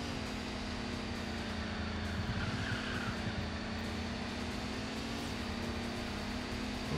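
A race car's engine drones steadily through a corner in the Sports Car GT game, a constant near whine that dips and rises slightly as the throttle eases off.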